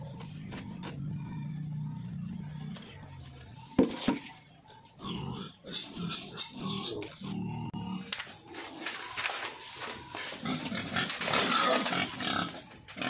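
Pigs on a farm grunt and oink in irregular bursts, some close and loud, others softer, with occasional squeals and background commotion.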